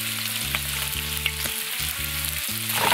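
Butter sizzling in a pan alongside garlic butter shrimp skewers over low heat, a dense continuous crackle, close and steady, with low tonal hum beneath and no voices.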